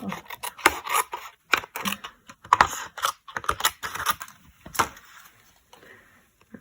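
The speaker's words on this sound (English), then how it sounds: "Then I'm going to fussy cut this with my snips." Paper being fussy cut with small snips around curved letter shapes for card stamping, a quick run of close, crisp snipping clicks and rasps in irregular bursts that thin out toward the end.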